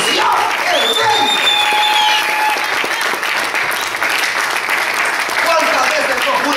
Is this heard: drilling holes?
no